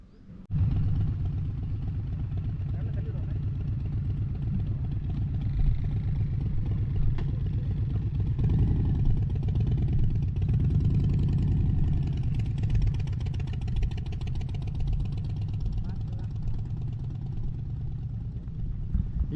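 A Harley-Davidson motorcycle fires up and idles on an off-road trail in the Aravalli Hills, giving a loud, deep, throbbing rumble that holds steady for the whole stretch after a sudden start.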